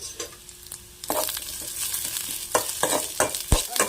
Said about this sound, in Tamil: எல்லாத்தையும் நல்லா வதக்கிக்கோங்க எண்ணெய் கொஞ்சமாக மட்டும் ஆட் பண்ணிக்கோங்க